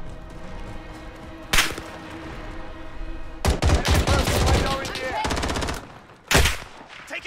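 Call of Duty: Warzone gunfire erupts in loud, rapid bursts: a short crack, then a long rattling volley, then another sharp burst after a lull.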